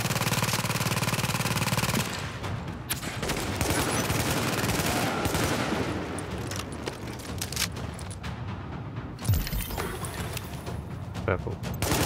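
A turret in Tom Clancy's The Division fires long, loud, sustained bursts of machine-gun fire mixed with other gunshots. The firing runs almost without pause, with a few sharper close impacts, and a voice speaks over it.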